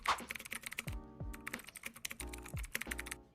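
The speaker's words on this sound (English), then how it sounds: "type in Bluestacks" Rapid clicking of computer keys as a word is typed on a keyboard, a close, uneven burst of keystrokes with short pauses between groups, no voices.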